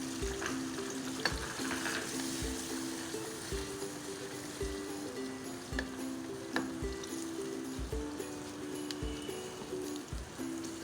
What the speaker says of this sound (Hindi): और इसमें जो मसाला हमने ग्राइंड किया था वो डालेंगे।